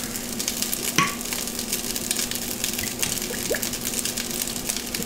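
Sesame oil hisses and sizzles steadily in a hot pan, a continuous bright frying crackle with a sharp spattering burst early on and a low steady hum beneath, with no one talking.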